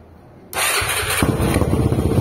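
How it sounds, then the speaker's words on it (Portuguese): A Honda Twister motorcycle with a 340cc engine cranks and fires up after a brief quiet moment, then settles into a loud, steady, close-range running rumble. "Deixa eu ver se dá pra dar uma partida."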